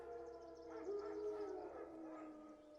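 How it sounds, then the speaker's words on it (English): A wild dog's drawn-out, wavering howl in The Witcher 3, faint and somewhat distant, rising for about a second then trailing off over low ambient wind. "No. Wild dogs."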